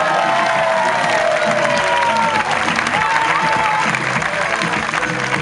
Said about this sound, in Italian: Rolando, ti lascio all'applauso di questa bella piazza, questa piazza calorosa